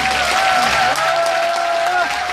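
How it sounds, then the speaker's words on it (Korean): A crowd at a Busan welfare rally applauds together, a steady wash of clapping with a sustained tone and some voices mixed in beneath it throughout. "모두를 위해서 박수하도록 하겠습니다."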